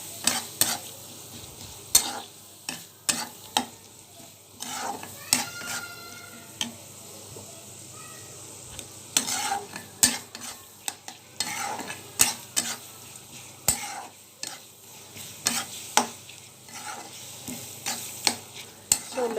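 A spoon repeatedly scrapes and knocks against a pan while tomato is mixed into frying onions, the sharp clacks coming in irregular bursts over a faint background sizzle, close by with no voices.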